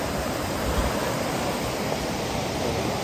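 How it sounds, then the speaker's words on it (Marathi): Cold Saraswati river water rushing steadily near Kalimath, a dense, even broadband roar with no breaks, heard close and alone without voices. "बघू शकता ही सरस्वती नदी."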